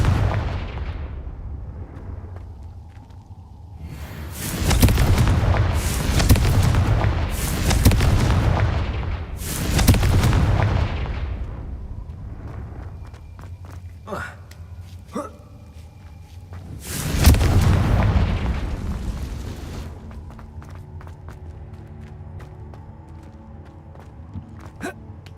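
Repeated blasting-spell explosions from the Hogwarts Legacy video game: loud booming bursts, several in quick succession early on, then a later single big blast, with crackling debris and quieter ambient game sounds between.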